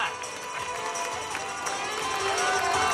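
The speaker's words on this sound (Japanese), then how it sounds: "みんな拍手。" An outdoor crowd applauds at a hero stage show during a 2010 summer festival in Atami, a dense, steady clatter of clapping with no break that swells a little toward the end.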